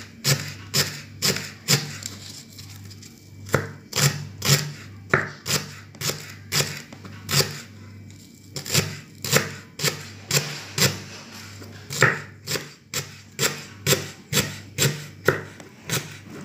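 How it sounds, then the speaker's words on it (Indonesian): Leeks are chopped on a cutting board for Balinese calon ayam meatball soup, steady knife thuds in quick bursts of rhythmic strokes with short pauses, close and clear. "Bawang prenya kita potong."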